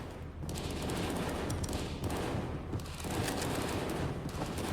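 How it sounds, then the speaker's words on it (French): Rapid gunfire in a zombie survival video game, dense bursts of automatic shots crackling in quick succession with brief pauses, loud and continuous with no speech. "C'est des militants qui tirent."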